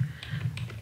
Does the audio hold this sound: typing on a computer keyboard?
yes